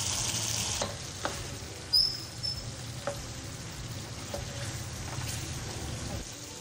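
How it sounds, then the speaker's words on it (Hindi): Khara masala chicken fries in a pot over a high flame, a steady close sizzle with a few sharp pops and spatters and light stirring scrapes. "तो इसको हम तेज़ चूल्हा करके उसका पानी खुश्क कर लेंगे"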